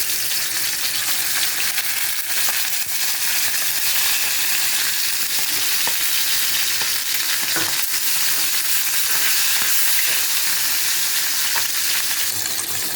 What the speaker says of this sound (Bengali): তেল গরম হয়ে গেছে এখন আমি মাছের মাথাটা ছেড়ে দেবো